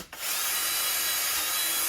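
A power drill spins steadily and bores into a plastic MagSafe phone case, a close, continuous whirring grind that holds for nearly two seconds after a brief start.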